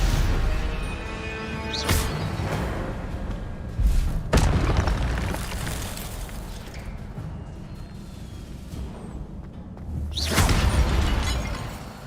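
Several booming explosions go off in Hogwarts Legacy, with loud bursts at the start, around the middle and near the end over constant rumbling game noise, and no talk.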